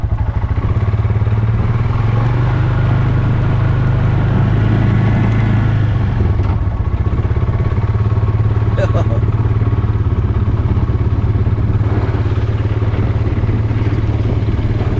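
A Honda 300 rides over a bumpy track, its engine droning steadily up close as loose plastics shake and rattle. The low hum stays loud and continuous throughout, with no talk.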